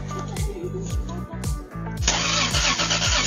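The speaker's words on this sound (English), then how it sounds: "When a car crazy kid wanted to hear this Supra's engine" A Toyota Supra's engine cranks with a rhythmic whirring starter sputter, then catches and roars into a loud, rough idle, heard close up with no talking.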